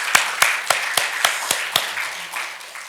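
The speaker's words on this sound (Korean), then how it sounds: "영광의 박수 우리 하나님께 올려드리도록 하겠습니다" A church congregation claps in unison during a Sunday service, about ten sharp, evenly spaced claps sounding over a softer background of scattered applause that fades slightly toward the end.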